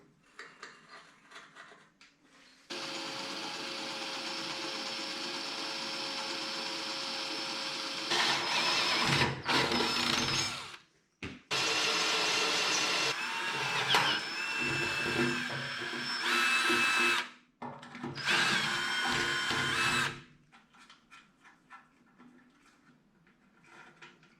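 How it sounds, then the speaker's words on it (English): A power drill drilling holes whines in several long bursts with brief pauses between them, loud and close, with some clattering in the gaps. "let's drill some holes"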